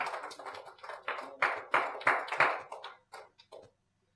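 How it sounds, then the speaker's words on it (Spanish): A church congregation breaks into applause, a burst of many hands clapping fairly near that builds, peaks, then thins to a few scattered claps before falling silent. "Un aplauso al Señor."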